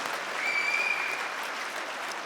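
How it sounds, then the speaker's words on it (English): A church congregation applauds its pastor during a morning service, a steady broadband wash of many hands clapping that holds evenly throughout, with a faint whistle rising briefly over the din. "give him a loud round of applause for all that he's done this morning"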